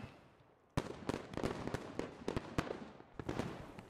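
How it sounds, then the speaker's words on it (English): Bradley fighting vehicle gunfire in the military shooter game Squad: a burst of sharp, distant-sounding cannon shots with irregular spacing, cracking over a quiet background. "it's the Bradley shooting at him"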